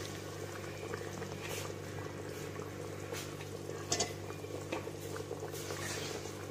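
Masala simmering in a pan after a little water was added, a soft steady bubbling and patter close by, with faint clinks and no talk.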